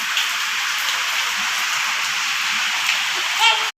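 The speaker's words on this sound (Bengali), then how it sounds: "দেখুন কিরাম বৃষ্টি পড়ছে" Rain falling in Kolkata during a sunshower, a steady dense hiss of drops on surfaces, fairly loud and even throughout.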